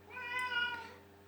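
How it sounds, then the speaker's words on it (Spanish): A pet cat meows in one drawn-out, rising-and-falling cry, close and fairly clear over a steady low background hum, wanting to be let outside. "Esa que escuchan es mi gata,"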